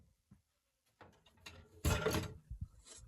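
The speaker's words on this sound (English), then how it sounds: "Stovetop flips up." Stovetop cover in a camper van flipping up, a few small clicks and a sharp clattering hinge clunk near the middle, close and fairly quiet, with soft knocks after.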